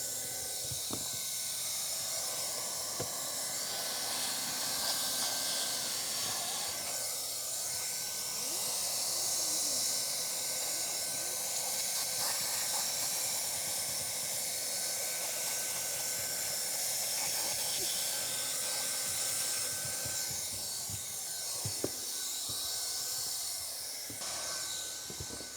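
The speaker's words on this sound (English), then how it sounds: "we're going to weld this piece of flashing together" A hot air welder blows steadily while welding TPO roofing flashing at an inside corner, a continuous soft hiss with faint scraping and tapping underneath.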